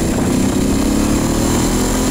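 A Ducati Hypermotard 1100 motorcycle engine roars steadily up close as it accelerates, its droning pitch holding strong and loud throughout with wind rumble mixed in.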